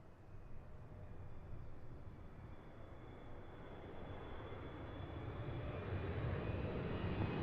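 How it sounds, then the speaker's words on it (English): A Boeing 777 heavy jet arriving from Dubai to land at Seattle gives off a broad, distant engine roar with a faint high whine that swells slowly as it approaches, and no one speaks. "coming up to us all the way from Dubai is this 777"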